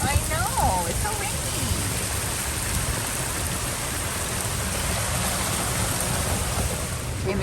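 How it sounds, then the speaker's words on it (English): Heavy hurricane rain pours steadily during landfall at a big cat rescue, a dense constant hiss with low rumbling wind, and a brief faint voice near the start. "Oh, I know, it's so rainy."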